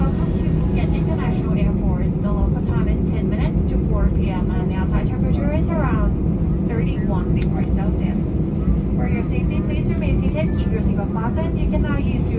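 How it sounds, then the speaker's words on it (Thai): A passenger airliner taxiing after touching down at Phuket airport, its steady loud cabin engine roar continuous throughout, with a cabin announcement voice talking over it. "หลังจากที่เครื่องบินได้ลงจอดที่สนามบินภูเก็ตแล้ว"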